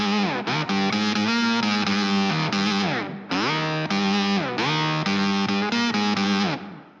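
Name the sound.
electric guitar through ENO Music octaver pedal, double sub octave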